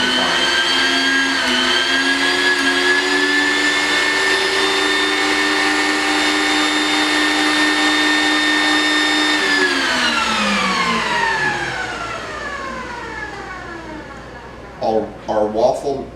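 A loud electric mixer whirs steadily through buttermilk waffle batter, its pitch holding level before dropping and winding down as it shuts off, followed by a few knocks and clatters.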